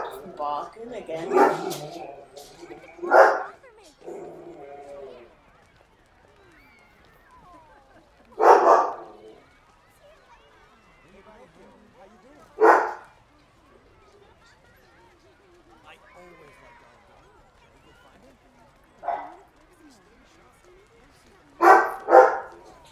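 A dog barks in a Disneyland Adventures video game, with short sharp bursts that come in several separate spurts spread across the stretch and quiet gaps between them.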